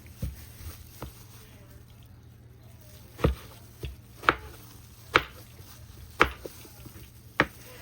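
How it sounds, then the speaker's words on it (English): A knife cuts through skin-on eggplant on a cutting board, giving several distinct sharp chops at irregular intervals, faint and close, with quiet background hum between strokes. "So I'm just going to show you different version of how you can, you know, cut your eggplant"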